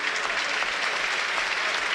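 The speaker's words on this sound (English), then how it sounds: "Applauded by the crowd, and we are underway." A football stadium crowd at Burnley v West Ham applauds steadily as players take a knee before kickoff, a broad, even wash of clapping held at moderate distance with no break.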